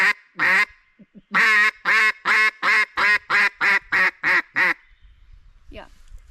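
Duck call blown with its O-ring tuned for a deep, throaty tone, giving a quick pair of quacks and then a steady run of about ten evenly spaced, loud, close quacks that trail off into quiet.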